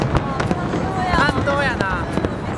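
Fireworks bursting over Victoria Harbour in Hong Kong at a Lunar New Year display, sharp repeated pops and crackles mixed with whistling trails, under a steady crowd murmur and excited voices nearby.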